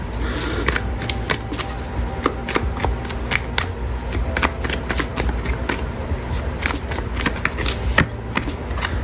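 A Light Seers tarot deck being shuffled, a steady run of crisp, close card riffles and slaps with no talking.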